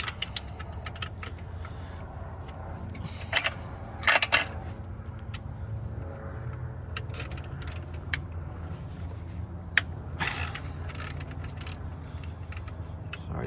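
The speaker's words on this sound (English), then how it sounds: "right here, you're gonna have to loosen up this nut" Wrench loosening and removing a nut on a 2004 Toyota Camry alternator: scattered metallic clicks, ratchet ticks and clinks over a low rumbling background, close and moderately quiet.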